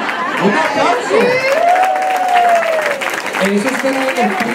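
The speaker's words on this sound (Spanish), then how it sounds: "¡Un aplauso!" Audience at a charismatic Catholic gathering breaks into applause and cheering, dense clapping mixed with crowd voices while a voice calls out over it.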